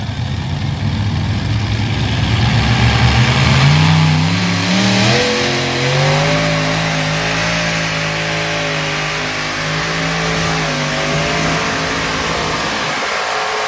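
Pack Rat super modified pulling tractor at a Thursday night pull in Toma, Wisconsin, its engine loud and close, idling roughly then revving up in rising, wavering pulls that hold a steady high drone.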